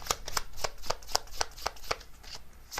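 Tarot cards are shuffled and drawn, a crisp rapid series of papery slaps and riffles in an uneven rhythm, close and clear with no voices.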